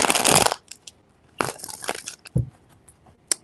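Tarot cards are shuffled in a few quick, crisp riffling bursts close by, separated by brief pauses.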